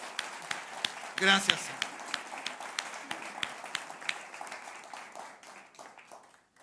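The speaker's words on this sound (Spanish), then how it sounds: "Dale un buen aplauso al Señor por eso" A church congregation claps in scattered, uneven bursts that trail off gradually, with someone briefly speaking near the start.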